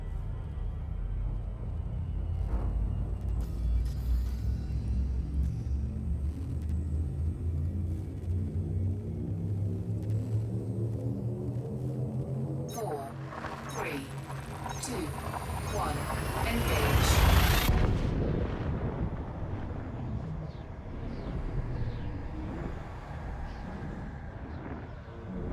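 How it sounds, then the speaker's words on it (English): A starship's frameshift drive in Elite Dangerous charges up with a deep, steadily rising rumble. Around seventeen seconds it peaks in a loud, bright whoosh as the jump kicks in, then settles into a lower roaring drone. "Frameshift drive charging."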